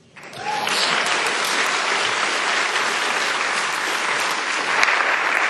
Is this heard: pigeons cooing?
no